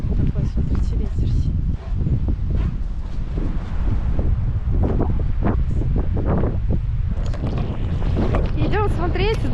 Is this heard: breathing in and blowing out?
no